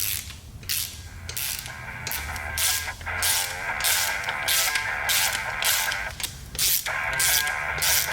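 Bolts threaded by hand into an LS engine during a home rebuild, giving a steady, close run of ratchet-like clicking and metallic ticking with brief pauses between bolts and no talking.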